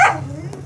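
A single short dog bark, close and fairly loud, quickly fading.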